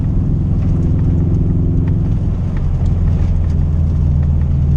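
A 2013 Subaru WRX drives over snow, its engine humming steadily with a low, continuous rumble and road noise from inside the cabin, no voices.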